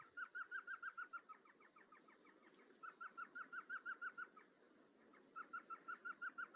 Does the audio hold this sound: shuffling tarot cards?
no